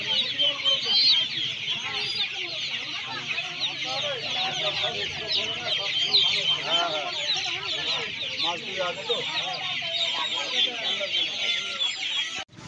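Crowds of chickens cluck nonstop at a weekly poultry and duck market in Uluberia. The dense, close chorus runs unbroken throughout, with faint voices in the background.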